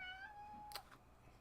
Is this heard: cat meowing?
yes